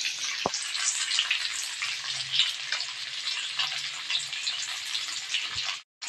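Tofu sizzles in hot oil with garlic and onion in a pan for adobong tokwa, giving a loud, steady frying hiss with crackle throughout, briefly cut at the end.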